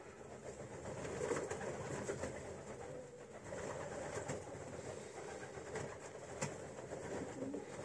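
A pigeon coos softly in winter, faint and intermittent beneath a steady background rumble like a passing train, with no talking.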